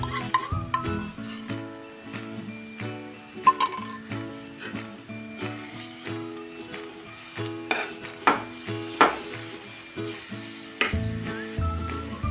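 Gram flour pithla with fenugreek being stirred in a pan over rising heat, rhythmic scraping and metal clinks of a spoon against the pan over a light sizzle, with no voices.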